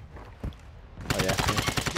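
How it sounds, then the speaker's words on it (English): Rapid automatic gunfire erupts loudly behind the players in a first-person shooter video game, a dense burst of repeated shots following a single earlier crack, with faint voices underneath. "isn't there shooting behind us?"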